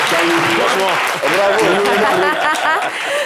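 Applause from a studio audience on a talk show, dense clapping that continues throughout with voices talking and some laughter mixed in over it.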